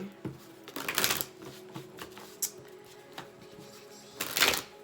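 Tarot cards are shuffled by hand in a quiet room: soft papery riffles come in two short bursts with light taps and rustles between them, close and fairly faint.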